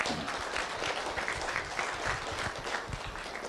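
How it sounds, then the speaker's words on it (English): An audience in a school event hall applauds parents and guardians, a steady, dense wash of many hands clapping throughout, moderately distant and without talk. "So could you please give them a round of applause?"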